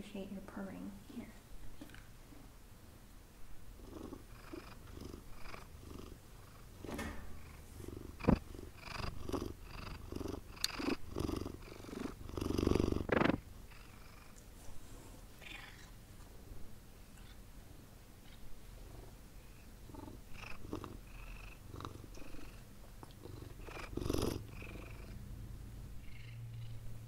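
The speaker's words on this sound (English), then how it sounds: "we'll take a break to appreciate your purring" A domestic cat purrs up close in a quiet room, a soft continuous rumble joined by scattered taps and rustles, with occasional whispered talk over it.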